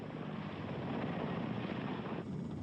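A Lockheed AH-56 Cheyenne compound helicopter with a pusher jet thrust roars in a dense, steady rush of rotor and engine noise that eases slightly near the end.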